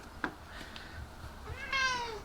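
A house cat gives one short, clear meow near the end of a quiet indoor moment, preceded by a few soft knocks and faint rustles.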